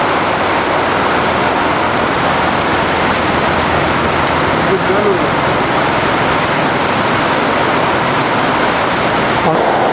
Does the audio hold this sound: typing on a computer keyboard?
no